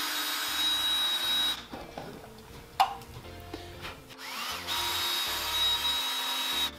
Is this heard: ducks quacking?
no